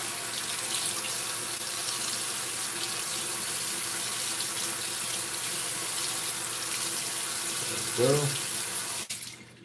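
Tap water runs steadily into a bathroom sink as a shaving razor is rinsed under it, a constant close hiss with a short splash near the end before the flow stops; a single word is spoken.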